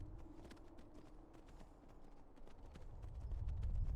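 Hooves clip-clop in a steady galloping rhythm as a horse runs in the video game Skyrim, the beat holding under a low rumble that swells louder toward the end.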